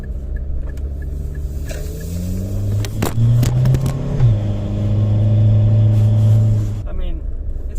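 A Renault Scenic drives along a rough road, its engine rumbling and rising in pitch as it accelerates, heard from inside the cabin at close range with faint clicks and knocks.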